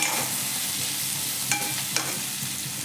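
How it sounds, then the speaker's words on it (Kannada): Ingredients for a country chicken sambar fry loudly in a pan, a dense continuous hiss with a couple of sharp stirring scrapes and clinks near the middle, close and without voices. "ಚೆನ್ನಾಗಿ ಫ್ರೈ ಮಾಡ್ಕೋಬೇಕು ಇದೆಲ್ಲ"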